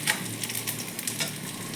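Radhuni spice sizzles and crackles in hot oil in the fish curry pan, with quick stirring scrapes and small pops over a soft steady hiss.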